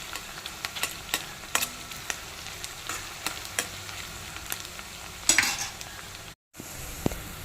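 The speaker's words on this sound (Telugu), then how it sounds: "అన్నీ కూడా ఈక్వల్గా వేగాలి కాబట్టి మనకి కొంచెం కలుపుతూ ఉండాలి" Onions frying in a pan for mutton curry, a steady close sizzle punctuated by regular scraping stirs, with a brief louder clatter near the end and a momentary drop-out.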